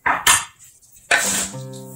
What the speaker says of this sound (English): I like to stir it and spin my bowl around as I'm stirring.